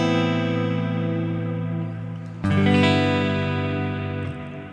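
Guitar chords ring through a Kemper dual delay effect, sustained tones trailing echoes, then a new chord struck midway swells louder before fading repeats; no talking.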